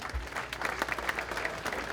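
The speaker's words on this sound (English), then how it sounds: "how about a round of applause right here?" Sponsor Community Bank receives a round of applause at a sports night banquet: a short burst of crowd clapping in a hall, fairly steady and moderately loud.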